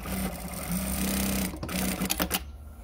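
Juki DDL-9000C industrial sewing machine stitching in a steady, even whir for about a second and a half, then brief start-stop bursts of stitching close by, with no talk.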